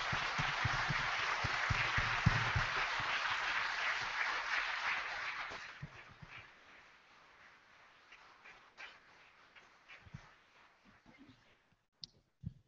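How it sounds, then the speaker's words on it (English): Audience applause at a medical advisory board session, dense and fairly loud for about five seconds, then thinning to scattered faint claps and small noises. "And I think they need another round of applause."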